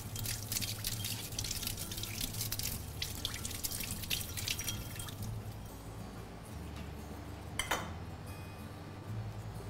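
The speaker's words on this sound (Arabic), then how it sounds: "هنا نغسل الوسك مالتنا والمضرب" A whisk and beater are washed under running kitchen tap water, a soft steady stream with faint clinks and splashes, quiet and close.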